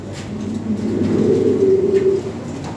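A pair of Lahori Sherazi pigeons coo in low, rolling throbs, close and clear over a quiet background with no talking.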